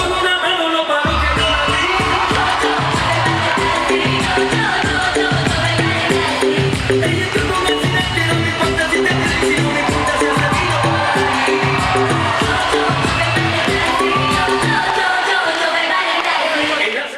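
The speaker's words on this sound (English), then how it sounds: "They earned much applause from their young audience." A young audience in a hall cheers and applauds after a teachers' dance performance, a loud continuous crowd roar with whoops and clapping, music or voices mixed in throughout.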